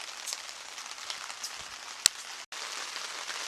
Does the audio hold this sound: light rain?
yes